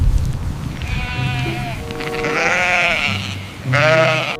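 A sheep, voiced by a toy animal, bleats twice in long wavering cries, close and loud, over a steady background of music.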